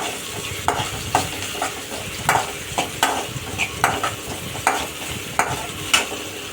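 Onions sautéing in a pan for a cauliflower pepper fry, a steady sizzle under a regular rhythm of spatula strokes scraping and clinking against the pan, close up.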